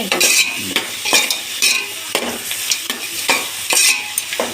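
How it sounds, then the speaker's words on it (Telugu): Onions and green chillies fry in a pan for tomato rice, loud sizzling broken by repeated rhythmic scrapes of a spoon stirring roughly every half second, with no talking. "ఎర్రగడ్డ పచ్చిమిర్చి లైట్గా దోరగా వచ్చినాక"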